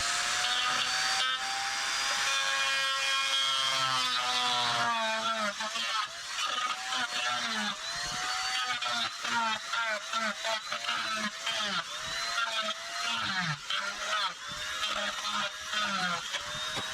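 A rotary grinding tool cuts away injection-molded plastic on a Ferris ISZ mower clutch wire to reach the copper, a buzzing whine that rises and falls in repeated short bursts at close range.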